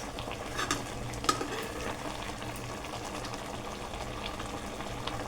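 Rice for chicken biryani simmering in a pot on the stove, a steady soft bubbling with a few faint clinks of utensils against the pot.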